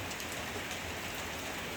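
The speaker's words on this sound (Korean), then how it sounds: "이 내리는 빗소리는 누구를 위한 빗소리일까요?" Steady rain falls on a quiet night, a dense, even hiss of drops on surfaces that holds unchanged throughout, with no voices.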